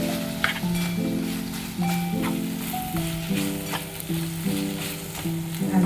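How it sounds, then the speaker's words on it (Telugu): Tomato, green chili, garlic and tamarind fry in a pan, giving a steady, close sizzle throughout beneath continuous background music. "ఇదిగోండి టమాటా పచ్చిమిరపకాయ ఫ్రై అయిపోయింది కదా."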